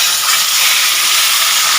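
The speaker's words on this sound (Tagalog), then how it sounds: "ilagay na nga po natin yung ating ipipritong tilapia" Tilapia frying in hot oil, a loud, constant close hiss of spattering oil that stays even throughout with no talk.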